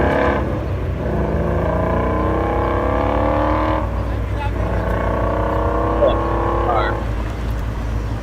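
A Ford Shelby performance car engine roars loudly and close by, revving through rising and falling tones in sustained pulls as it accelerates, with faint voices underneath.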